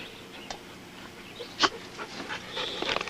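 Alaskan Malamute dog panting and huffing close by outdoors during a cemetery visit, a quick breathy rhythm with a short whimper-like burst in the middle, no voices over it.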